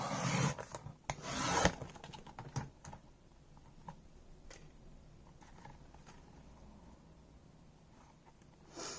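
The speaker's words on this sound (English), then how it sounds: "I'm just going to cut down my chipboard here" Chipboard is cut by hand with quick scraping and rasping strokes, louder in bursts at first, then settling into faint, sparse scratching close by.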